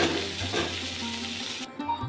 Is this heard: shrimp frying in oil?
yes